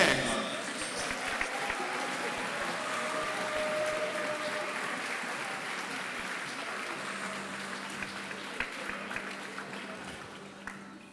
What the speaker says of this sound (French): Je vous demande d'applaudir très fort le tireur de Levallois, monsieur Paul Allègre.